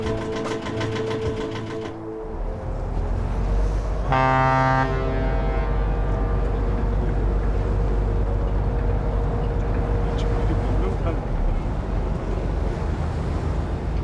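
A sailing yacht motoring under engine on the open Yellow Sea during a long-distance race gives a steady, continuous low engine drone with wash and water noise around the hull, and a brief tonal toot early on.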